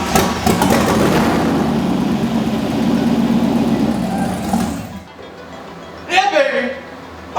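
A V8-swapped Miata race car with a big cam idles and revs loudly up close, a heavy rumbling engine that cuts off abruptly, followed by a short burst of voices.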